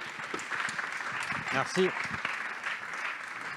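Applause from a business startup event audience welcoming a company CEO onto the stage, a steady broadband patter of many hands with a voice speaking briefly over it.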